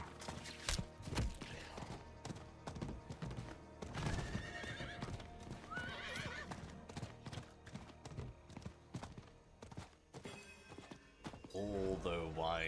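Horse hooves clip-clopping in a steady walking rhythm with repeated whinnies and neighs in the Diablo 4 video game, mixed with other game effects, fairly close and prominent.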